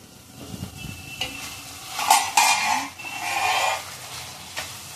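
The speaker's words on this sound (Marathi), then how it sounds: "झाकण ठेवते. झाकण घालून बघूया." Shevaya upma with vegetables sizzles in a pan as a lid is set on top, a brief metallic clatter over a steady, close frying hiss.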